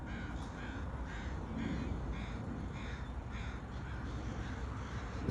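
Crows and seagulls gathered in an open field, repeated harsh caws at a moderate distance over steady outdoor background noise.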